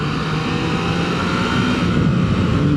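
A motorcycle engine in second gear at about 6,000 RPM drones loud and steady with a rough rumble, rising slightly toward the end, heard up close while riding.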